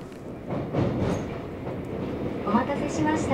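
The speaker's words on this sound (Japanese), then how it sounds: "成田空港に行く特急スカイライナーに乗ります。" The Skyliner express train to Narita Airport rumbles steadily on the rails, with a faint rhythmic clatter and a few higher tones near the end.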